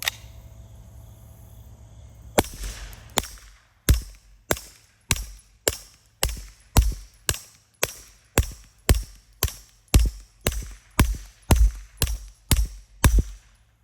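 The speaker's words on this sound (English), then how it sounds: "Only this time I'll just shoot at the berm." CZ Scorpion 3+ firing into a dirt berm outdoors, a steady string of about twenty sharp, evenly spaced shots with a crisp crack and short decay, coming after a quiet stretch of low background hum.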